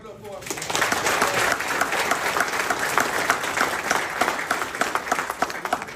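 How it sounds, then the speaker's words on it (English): Crowd applause from people at a football camp gathering swells up quickly and holds as dense, steady clapping, with voices talking and calling out underneath. "Let's clap it up for us."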